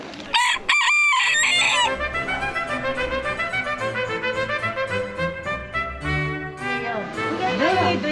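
A rooster crows at a rural five-day market in Goesan, its long harmonic calls rising and falling over a busy background of voices and market noise.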